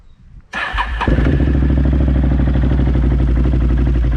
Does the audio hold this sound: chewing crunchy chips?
no